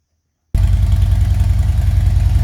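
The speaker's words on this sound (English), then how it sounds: "Okay, here we are with motorcycle running." A motorcycle fitted with S&S Power Tune dual 1.5-inch headers starts up after a moment of silence and settles into a loud, close, steady idle with a deep pulsing exhaust rumble.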